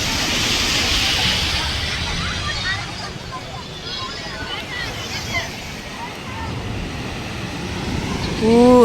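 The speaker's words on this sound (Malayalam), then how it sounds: "ഇപ്പം നല്ല തണുത്ത കാറ്റ്" Steady wind roaring across a microphone at the seaside, with surf wash underneath and faint voices in the background.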